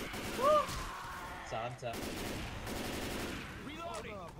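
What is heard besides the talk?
gunfire in Left 4 Dead 2 video game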